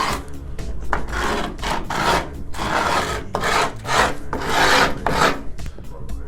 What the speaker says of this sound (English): on the curved part of the board you get a nice hard scrape on there